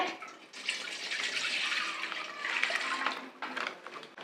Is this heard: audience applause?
no